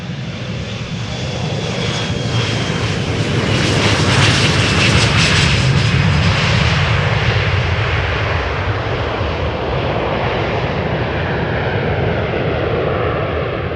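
A jet airliner departs runway 36L at Amsterdam Schiphol on a showery day, its engine roar swelling to a loud, broad rumble and then slowly fading as it climbs away, with no speech.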